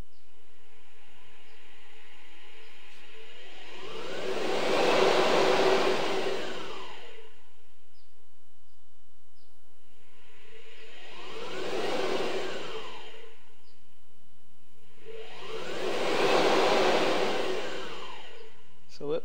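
AC 50 electric motor driven by a Curtis 1238 controller, revving up to about 5,500 RPM three separate times, each a rising then falling whine that swells loud and fades back to a quiet hum.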